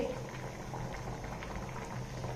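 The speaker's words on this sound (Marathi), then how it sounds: "हा पालक मी या पाण्यामध्ये घालत आहे।" Salted water bubbles and churns at a steady boil close by, a dense watery rumble with faint splashes as washed spinach is dropped in.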